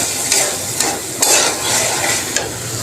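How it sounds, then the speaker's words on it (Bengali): Greens and potatoes frying in oil with coriander powder, a steady loud sizzle broken by several sharp stirring scrapes and clinks of a utensil against the pan, with no talking. "ধনিয়ার গুঁড়া দিয়ে এই যে এখন তেলে দিয়েছি।"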